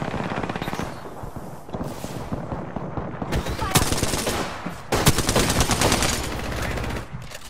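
Rapid automatic gunfire in the video game Apex Legends, with long bursts and sharp repeated shots that stay loud and close, while players talk over the shooting.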